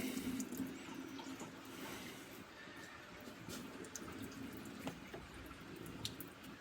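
Coolant from a 2018 Dodge Durango 3.6L trickles out while its cooling system is bled after a water pump replacement, a faint, steady watery flow with soft drips throughout.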